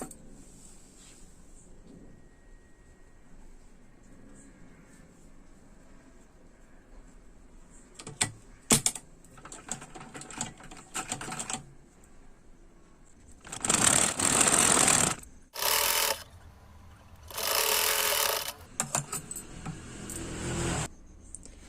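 Sewing machine running in short bursts while stitching along the edges of blouse fabric, with quiet handling in between and several louder, sustained stitching runs near the end.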